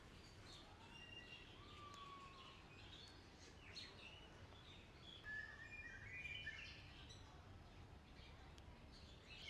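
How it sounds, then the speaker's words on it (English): Birds sing at Taman Burung TMII bird park, with faint, scattered chirps and whistles rising over a low outdoor hum. "You hear all these birds and so beautiful nature."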